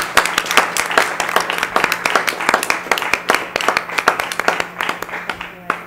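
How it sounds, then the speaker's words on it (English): A school committee meeting audience gives a round of applause for award winners, a steady, fairly loud patter of many hands clapping that thins out toward the end, with some talk underneath. "if we could have one final round of applause, please, for our award winners"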